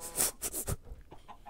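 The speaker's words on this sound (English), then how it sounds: "Chicken," Chicken in a video game clucks in a quick series of four or five short, bright calls, followed by quieter scattered sounds.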